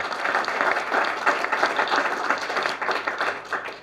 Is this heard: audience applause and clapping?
yes